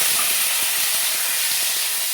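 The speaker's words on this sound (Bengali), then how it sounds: "তেজপাতা ফোড়ন দিচ্ছি, আর হচ্ছে 5 ফোড়ন দিচ্ছি" Bay leaf and five-spice tempering sizzle in hot oil, a steady loud hiss with small crackling pops throughout, heard close and alone.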